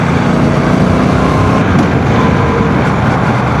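A 1200cc motorcycle engine revs up toward 7,000 rpm, giving a loud, continuous, rising drone with heavy wind rush, close and steady for the whole stretch.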